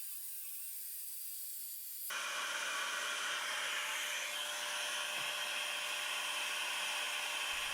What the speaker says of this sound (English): I started by cutting a strip of 3/4 inch plywood.